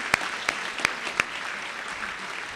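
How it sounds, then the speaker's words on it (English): At a Women's History Month celebration in Brooklyn Borough Hall, an audience applauds honorees. Four crisp, distinct claps ring out near the front over a faint, continuous background of scattered clapping that fades toward the end. "Let's a round of applause for all the honorees tonight."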